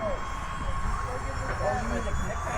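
A UMX MiG-15 28mm EDF jet radio-control plane flies at full throttle, giving a steady, thin electric-fan whine over wind noise while someone talks.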